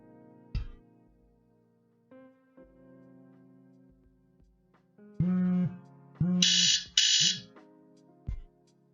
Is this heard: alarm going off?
yes